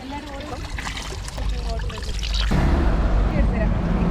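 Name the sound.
spring water trickling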